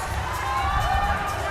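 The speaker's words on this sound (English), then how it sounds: "There's that cheer again" Spectators cheer and clap throughout a team pool match at the Reyes Cup, a steady, loud wash of crowd noise with no break.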